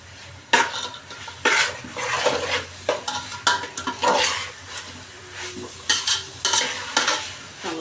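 Onion sautéing in oil for goat mutton sukka, a soft sizzle punctuated by irregular bursts of spoon scraping and stirring against the pan, nearby with no voices.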